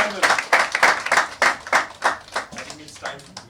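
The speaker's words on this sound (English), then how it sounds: "please give him a huge round of applause." An audience claps in a steady burst of loud, rapid, overlapping applause at a magazine cover unveiling event for actor Irrfan Khan.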